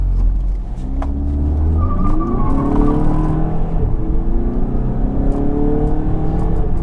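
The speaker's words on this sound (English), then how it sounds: "And here we launch." A car with a DSG gearbox launches and accelerates hard, its engine note rising in steady sweeps through the gears, loud and close from a cabin perspective, with no talk over it.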